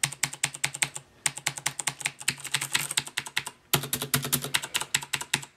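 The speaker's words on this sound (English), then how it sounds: "This is a keyboard that's great for typing" Fast, loud clacking of a Corsair mechanical keyboard with Cherry MX Blue switches, keys hammered all the way down, in steady rapid bursts with a brief pause midway.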